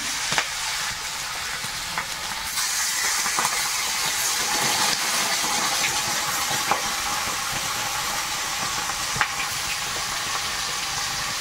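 Fish fried in hot oil over a wood fire at an outdoor Sundarban cooking spot, a steady close sizzle and hiss with occasional crackling pops throughout.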